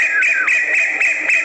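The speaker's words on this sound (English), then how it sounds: "That was the call of the female." Female koel's call in a recording, a rapid shrill series of sharp whistled notes running continuously and loud across the short span, with no voices.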